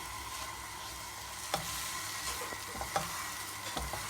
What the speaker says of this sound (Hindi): बस 2 मिनट तक इसको ज़रा सा भून लेंगे